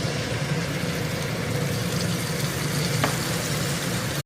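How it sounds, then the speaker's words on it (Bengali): Potatoes and tomatoes frying in hot oil in a pan, a steady dense sizzle that runs unbroken and fairly loud, with no talking, cutting off abruptly at the end. "আলু টমেটোটা ভেজে নিচ্ছি।"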